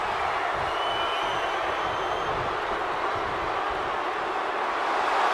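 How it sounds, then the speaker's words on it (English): A packed arena crowd roars continuously in a WWE wrestling video game, a dense, loud, unbroken wall of crowd noise with no talk over it. "The sound of this crowd is deafening, and he's asking for more."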